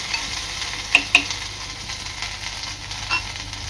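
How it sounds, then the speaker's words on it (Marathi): Crushed ingredients stir-fried in oil for fasting-style batata vada, a low steady sizzle with a few sharp scrapes of a spoon against the pan; no voices. "एक ते दोन मिनटं चांगला तेलावर परतून घ्यायचा आहे"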